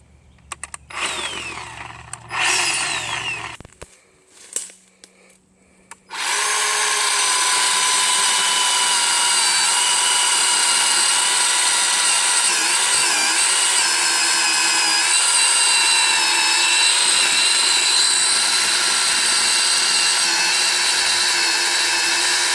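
A Bauer 20V cordless electric chainsaw motor with no bar fitted starts after some handling clatter, then runs as a loud, steady high-pitched whine close by, holding constant for well over fifteen seconds.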